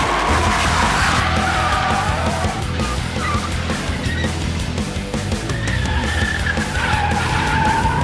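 Fat tyres on a Dodge Viper SRT-10 screeching at the limit of grip, loud and continuous, with a wavering squeal over the engine's drone throughout.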